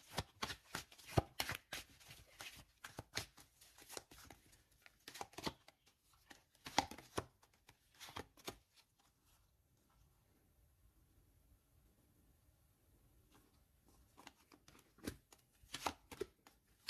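Tarot cards being shuffled, a fast run of crisp papery riffles and slaps in bursts, pausing to near silence midway before the shuffling resumes close by.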